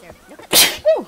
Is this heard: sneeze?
yes